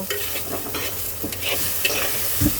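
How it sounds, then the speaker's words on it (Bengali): Steady sizzling of spice paste frying in a pan for an egg curry, with occasional scraping and stirring sounds from a utensil throughout. "এবার মশলাটাকে আমি একটু হালকা ভাজা ভাজা করব"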